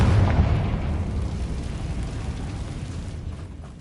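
Hogwarts Legacy's Confringo exploding spell lets out a heavy rumbling blast that starts loud and fades slowly into a long, noisy crackling decay, with no voices.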